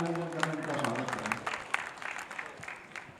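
A crowd claps for minister Tulsi Silawat at a public event in Sanwer welcoming Narmada water, steady applause filling the air with a mix of crowd noise and some voices.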